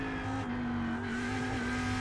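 A Lamborghini Huracan GT3 race car on the Long Beach street circuit drops into second gear. Its engine holds a loud, close, steady drone with small pitch steps as the revs shift.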